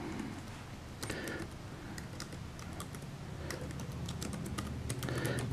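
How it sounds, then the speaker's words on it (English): Typing on a computer keyboard, scattered light key clicks in short clusters over a steady background hiss, no voices. "And type in your name."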